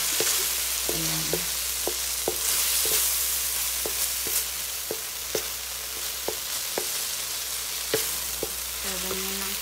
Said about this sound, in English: Pwede natin i-mix na yung hipon.